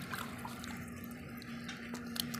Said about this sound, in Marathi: चांगले असे मोकळ्या पाण्यात मस्त धुवून घ्यायचे